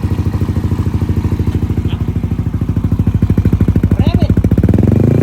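Motorcycle engine fired up and idling after a cylinder head and crankshaft replacement, a steady close, rapid thumping pulse that holds evenly throughout, with a voice speaking over it.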